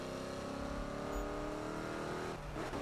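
A Mustang in the Need for Speed racing game holds a steady, loud engine drone that rises gradually in pitch as it accelerates, then ends in a rougher burst of noise.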